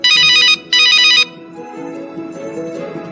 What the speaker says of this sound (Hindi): अरे ये तो पापा जी का फोन है।